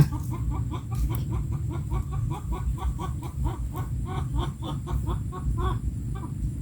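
Chickens clucking steadily in a quick repeated rhythm, close by, over a low rumbling background.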